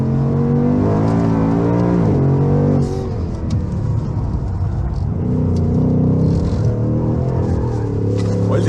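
A Ford Mustang Mach 1 with an automatic gearbox accelerates hard on a race track, its loud engine rising in pitch and then dropping at a quick upshift before pulling strongly again.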